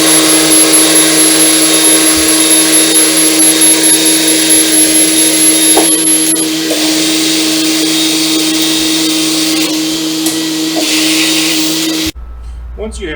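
A Horsch Avatar SD seeder unfolds behind a tractor, loud steady mechanical and hydraulic droning with a constant whine that cuts off abruptly near the end.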